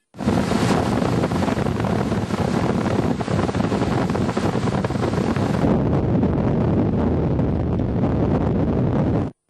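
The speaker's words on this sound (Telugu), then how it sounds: "ప్రాజెక్టు 13 గేట్ల నుంచి భారీగా నీటిని దిగువకు వదిలారు" Floodwater from the Narmada river rushes out through open gates of the Omkareshwar reservoir, a loud continuous roar of churning water heard alone, with heavy wind buffeting the microphone.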